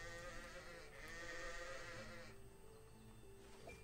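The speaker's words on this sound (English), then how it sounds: "That's a goat" A goat in the video game Ara Fell gives a short bleat over steady background game music, fairly quiet and close.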